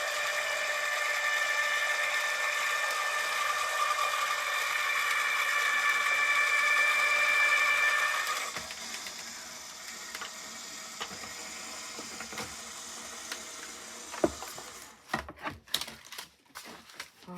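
An embossing machine with an extra shim cranks card stock through a Funky Fossil oak leaf cascade embossing folder, giving a steady whirring, ratcheting grind that stops partway, followed by sparse clicks and sharper handling knocks.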